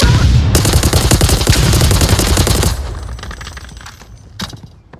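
A loud, rapid burst of light machine gun fire in the virtual reality shooter Onward rattles for about two seconds, then trails off into scattered distant shots and a single sharp report.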